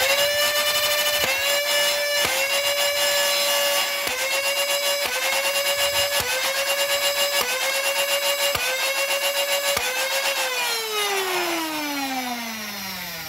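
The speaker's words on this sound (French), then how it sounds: "Je vais tirer 2 AccuStrike, 2 Waffle Dart Kind et 2 vrais Waffle Dart." A Dartzone Spectrum electric foam dart blaster firing, its motor whining steadily with roughly eight sharp rhythmic shots in a row, then spinning down with a falling whine at the end.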